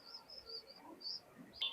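Imported teddy pigeons cooing softly, with several short, faint calls repeated at intervals against a quiet background, followed by a sudden louder knock at the end.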